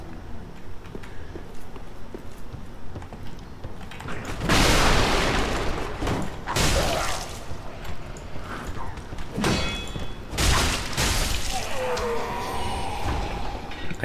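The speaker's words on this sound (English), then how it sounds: "fire bombs" Fire bombs explode in the video game The Fading Fires, several loud booming bursts spread across the stretch with crackling debris between them, over a steady rumbling game background.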